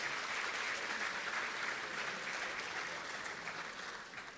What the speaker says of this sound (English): Let's give one more big round of applause for all of our academic winners.